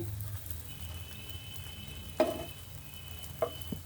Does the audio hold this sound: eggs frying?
yes